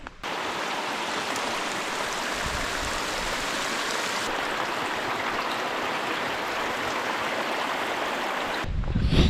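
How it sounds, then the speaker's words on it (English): Meltwater from a waterfall pours steadily into a snow seam along a mountain hike near Seward, Alaska, a dense, continuous rushing roar close by with no voices. "waterfall or water coming into a snow seam"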